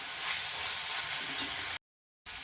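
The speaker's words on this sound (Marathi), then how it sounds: "आणि आता आपल्याला ह्याला एकदम छान परतून घ्यायचं. 1 ते 2 मिनटं कमी गॅसवरती." Onion and tomato sautéing in a pan over low heat give a steady, soft sizzle and crackle with faint stirring, close and continuous, broken by a short silent gap near the end.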